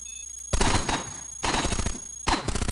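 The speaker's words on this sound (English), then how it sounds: "you guys are shooting through the walls" Enemy guns in the Cogmind game fire through walls in three loud rapid bursts, each a dense rattle of shots lasting under a second, separated by brief quiet gaps under a steady high tone.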